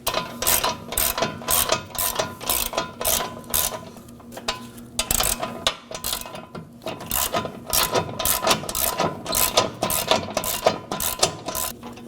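A hand ratchet snugs a nut on the rear control arm of a 2017-2024 Nissan Armada, giving rapid, loud clicking bursts in repeated strokes with brief pauses between them, close up.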